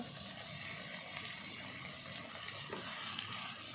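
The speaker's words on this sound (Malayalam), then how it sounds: "സോ ഗൈസ്, നമുക്ക് തക്കാളി വഴട്ടിയെടുക്കാം." Tomatoes frying in a pan on a wood-fired stove while a chicken curry is cooked, giving a continuous close hiss and sizzle with a faint bubbling texture and no talking.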